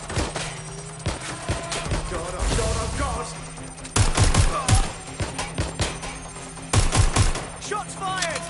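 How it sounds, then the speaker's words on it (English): Automatic gunfire rattles in Watch Dogs: Legion, loud rapid bursts with brief pauses between volleys, close and harsh over a steady game soundscape with voices mixed in. "Shots fired!"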